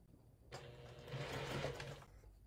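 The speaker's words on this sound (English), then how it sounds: "So I'm going to sew those together." A sewing machine stitches fabric pieces together in one burst of about one and a half seconds, a close, rapid mechanical whirr that starts and stops abruptly in an otherwise quiet room.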